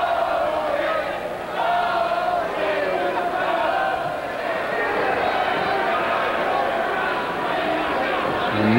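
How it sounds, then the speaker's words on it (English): A boxing crowd reacts unhappily at a fight, a dense, steady roar of shouting and jeering voices that fills the whole stretch at a constant loud level. "And you can hear the crowd there now."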